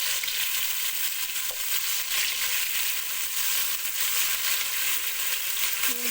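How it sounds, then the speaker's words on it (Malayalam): Chopped tomato sautés in a hot pan, giving a loud, dense, continuous sizzle and crackle with an occasional faint clink of a utensil. "ഇത് നന്നായിട്ടൊന്ന് വഴറ്റുക."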